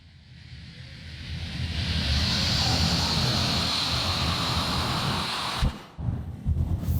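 A jet airliner sound effect in a comedy skit on a Tibetan New Year gala stage, a broad rushing roar that swells over a few seconds and holds steady before cutting off abruptly, with brief bumps after.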